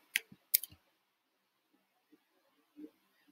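Two sharp mouse clicks close together near the start, crisp and close, followed by faint quiet ticks in an otherwise silent room.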